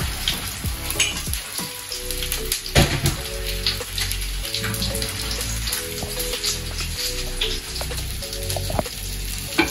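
Salmon frying in oil in a pan, a dense steady sizzle and crackle with occasional louder pops and scraping, close up and without talking, over faint background music.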